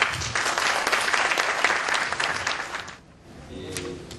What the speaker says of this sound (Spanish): Nuevamente un aplauso para Nano, por favor.